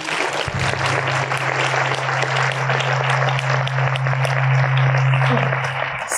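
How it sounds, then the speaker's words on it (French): An audience at a ciné-club event at the Institut Henri Poincaré applauds Sylvie Benzoni, loud steady clapping throughout over a sustained low hum. "on l'applaudit."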